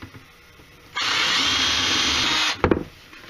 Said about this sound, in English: we always like to use a pilot drill to drill a hole in the cover first before we try to cut it with the hole saw